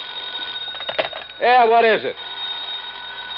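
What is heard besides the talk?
telephone ringing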